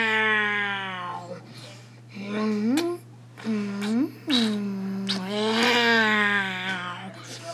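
A person imitates a cat, repeating drawn-out meows one after another over a steady low hum.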